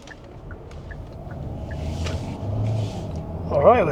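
A 2025 Hyundai Santa Fe hybrid Calligraphy cruising on a New Zealand road, heard from inside the cabin as a steady low rumble of road and tyre noise that swells slightly over four seconds.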